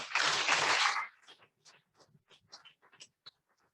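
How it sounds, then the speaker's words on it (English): A short, loud burst of applause at a whole-school assembly lasts about a second, then cuts to quieter talk. "a round of applause for Hope Kahinga"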